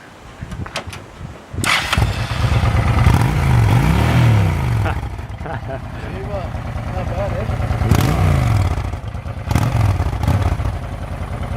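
A loud motorcycle engine starts and revs nearby, its rough roar rising and falling in repeated sweeps before settling into a heavy, clattering idle.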